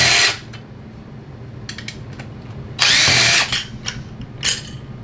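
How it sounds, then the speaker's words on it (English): A cordless power drill fitted with a 3/8 socket removes bolts from the cover of a TRS pump during a rebuild. It gives a short whir at the start and a longer loud burst partway through, with small clicks and handling noise in between. "I'm going to use my 3/8 socket on this drill to remove these 4 bolts."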